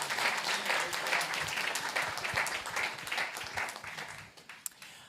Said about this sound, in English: more round of applause